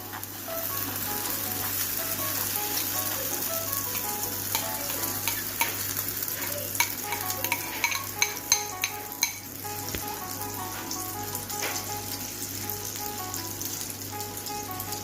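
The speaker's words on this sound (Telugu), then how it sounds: "ఆయిల్ వేడైంది కదా, ఇప్పుడు మనం ఇందులో అట్టులాగా వేసేసుకుందాము." Oats omelette batter frying in hot oil in a pan over a medium flame, a steady loud sizzle throughout with scattered crackles and pops, no voices.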